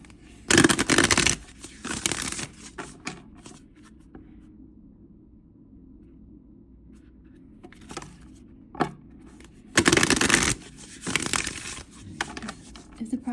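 Guidance cards are shuffled by hand in two rustling bursts, close and fairly loud, with softer card handling and quiet stretches in between.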